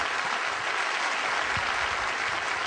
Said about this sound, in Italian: Cristian Ercolano, un applauso a Cristian.